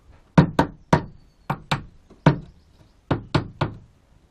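A part is tapped into place by hand during an Edge 330 aircraft rebuild, giving ten short, sharp knocks in loose clusters of two or three with brief pauses between them, close and clear, with no voices.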